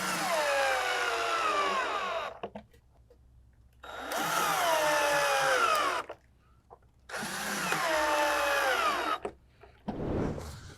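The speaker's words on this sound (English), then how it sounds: "drilling 4 E screws" A power drill drives screws into a wooden piece of a KidKraft Lakeside Bungalow playhouse, three sustained whirring bursts of about two seconds each with pauses between, close and loud, ending in a short rough clatter.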